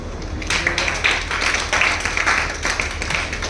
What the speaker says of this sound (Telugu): వాళ్ళని అభినందించి మనం చప్పట్లో పడ్డామండి.